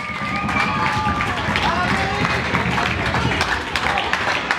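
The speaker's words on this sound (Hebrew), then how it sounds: "בואו נעשה להם קצת כפיים על הבטל הזה" An audience at a children's tricking championship battle claps and cheers in a dense, steady wash of applause, with voices mixed in throughout.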